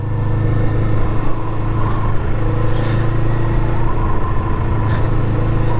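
A Kawasaki Eliminator motorcycle with a large, very quiet stock exhaust rides along, its engine a steady low drone with a smooth hum and light wind noise, holding a constant level without talk.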